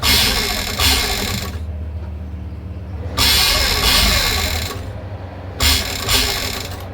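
A sewing machine stitches a facing onto an angrakha neckline in short loud bursts of rapid mechanical whirring, separated by quieter pauses, close by, with a voice speaking in the gaps.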